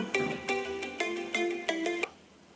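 A phone rings with a bright electronic melodic ringtone, several repeated tone bursts in a quick rhythm over about two seconds, then stops; no speech over it.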